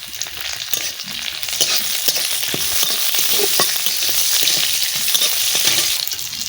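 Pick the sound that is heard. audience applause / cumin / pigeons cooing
cumin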